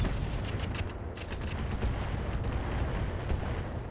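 Mech weapons in the RogueTech BattleTech video game fire on a turret in a rapid series of close, loud blasts and crackling impacts layered over rumbling booms, sustained throughout with faint high electronic tones near the end.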